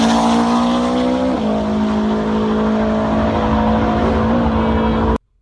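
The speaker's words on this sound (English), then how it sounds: "did you see that a Subaru flat 4 engine ran a 7-second pass?" A Subaru flat-four drag car roars at full throttle through a pass, its loud sustained engine note holding steady with a brief shift dip partway, then cutting off abruptly near the end.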